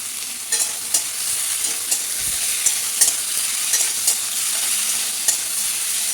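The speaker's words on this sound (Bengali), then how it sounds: "এবার দিয়ে দেবো ঝিঙে আলু সব একসাথে একটু ভালো ভালো করে ভাজা ভাজা করে নেব।" Ridge gourd and potatoes fry with onion and tomato in a pan, a continuous near sizzle broken by regular scraping stirs about once a second.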